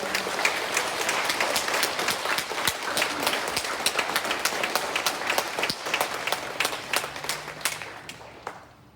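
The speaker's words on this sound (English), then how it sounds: "a wonderful round of applause" Audience applause for students at a school presentation day, sustained crowd clapping with many sharp individual claps, fairly loud and close, tapering off toward the end.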